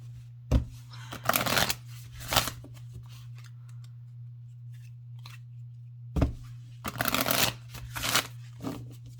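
Oracle cards, new and glossy, are shuffled in two separate bursts of quick riffling and flicking, close and crisp, with a faint steady hum between them.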